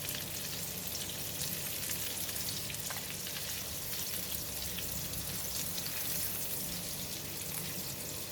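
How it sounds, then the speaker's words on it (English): Butter melts and sizzles in a pan with curry leaves and chili, making a steady, dense frying hiss with fine crackles throughout, moderately loud and unbroken, with no voices. "While melting the butter, add in curry leaves and the cut chili."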